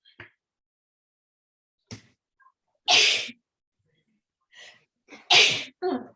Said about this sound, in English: So I'm going to sneeze, I think.